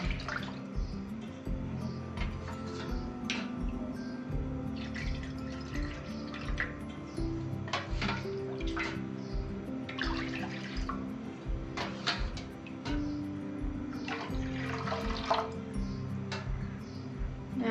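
Water pours and splashes into a pot as it is measured out for rice flour rotla, with uneven dripping and gurgling spurts near the microphone.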